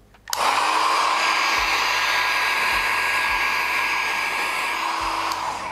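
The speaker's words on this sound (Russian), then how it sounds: "Теперь мы берем фен на сильном режиме и начинаем работать, а именно раздувать." A hair dryer on its high setting switches on abruptly and blows at full power with a steady, loud whooshing whine that continues without pause, used to spread poured acrylic paint.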